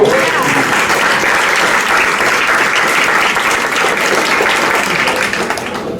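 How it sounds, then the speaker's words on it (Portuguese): A church congregation at Igreja de Nova Vida do Catete bursts into loud, sustained applause, dense even clapping holding steady throughout before easing slightly at the very end. "Uma salva de palmas ao Senhor."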